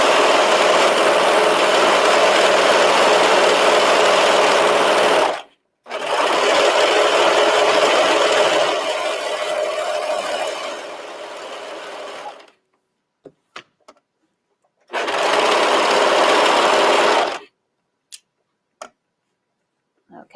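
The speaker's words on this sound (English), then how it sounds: "do the side seam from the sleeve all the way to the hem" Domestic sewing machine stitching a long side seam on a knit top from sleeve to hem, loud steady whirring runs in three bursts separated by pauses with faint clicks, no talk.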